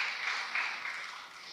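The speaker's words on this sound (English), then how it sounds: "I applaud the 12 of you who applauded." An audience in a lecture hall gives thin, scattered applause, a brief wash of clapping heard from a distance that tapers off quickly.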